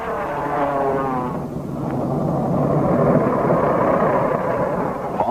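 Propeller racing airplanes from early air racing roar steadily as they fly around pylons, a loud sustained engine drone that swells and fades slightly without any speech.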